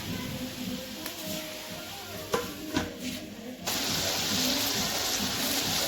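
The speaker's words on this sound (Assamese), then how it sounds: "মাংসখিনি ধুনীয়াকৈ হেতাৰে হিলাব লাগিব, নহ'লে তলত লাগি যাব" A spatula stirs chicken pieces in a hot pan during a chicken and bamboo shoot curry, with scattered scrapes and clicks over a low sizzle that swells into louder, steady frying noise partway through.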